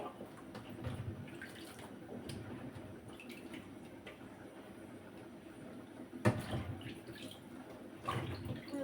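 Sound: washing a bottle gourd under running water

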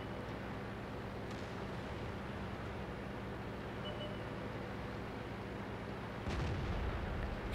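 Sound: M44 artillery fire in video game World of Tanks

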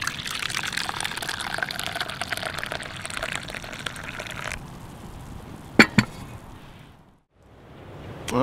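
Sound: coffee being poured into a cup

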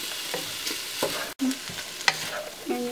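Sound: sautéing black beans in a pan

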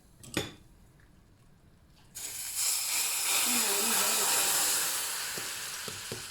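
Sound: chili powder poured onto hot oil, sizzling

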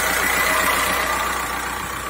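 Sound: diesel engine idling, Skoda Octavia Tour

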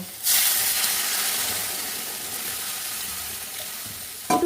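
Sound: water poured into hot oily kadai, sizzling

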